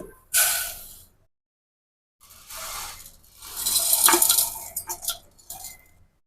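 Lentils are rinsed in water in short bursts of pouring and sloshing separated by pauses, close by, with no speech.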